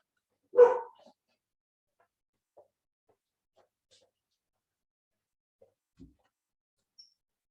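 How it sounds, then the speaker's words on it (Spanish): A small female dog gives one short, sharp yap at some distance indoors, followed by near silence broken only by a few faint clicks and taps. "mi perrita está ladrando"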